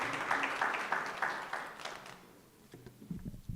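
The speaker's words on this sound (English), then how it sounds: "One last round of applause for the Executive Director." An audience applauds at a university campus student council inauguration ceremony. The clapping is fairly faint and fades out partway through, leaving quiet room noise and a few scattered sounds.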